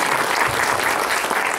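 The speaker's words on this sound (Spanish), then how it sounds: "Un aplauso." Audience applause at a Sunday afternoon talk on heritage, a dense, steady wash of many hands clapping at close range for the whole stretch, with no voices over it.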